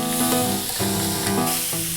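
Steaks sizzle on a hot grill, a steady close crackling hiss that runs the whole time alongside a sustained tonal hum, with no talking.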